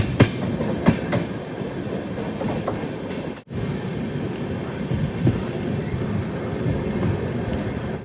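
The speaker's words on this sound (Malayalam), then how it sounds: "അടുത്തൊരു സ്റ്റേഷനിലേക്ക് ഇതാ ട്രെയിൻ എത്തുകയാണ്." Hatia Express passenger train running between Patna and Ranchi as it nears a station: a continuous close rumble with rhythmic clickety-clack of wheels over rail joints and a faint metallic squeal, with one brief dropout midway.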